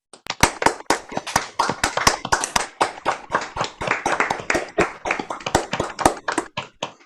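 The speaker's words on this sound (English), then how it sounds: "please join me with your mics off for a nice round of applause to Catherine and Megan" Clapping comes through a mic in an online meeting, a brisk, close, uneven string of sharp claps from what sounds like one or a few people, lasting several seconds with brief gaps.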